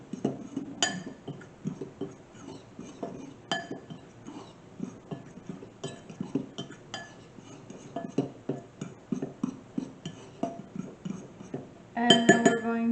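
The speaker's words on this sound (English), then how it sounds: "we're going to stir this up with a fork here" A fork stirs ingredients in a glass bowl, giving a steady run of light, irregular clinks and taps, with a denser burst of clattering at the end.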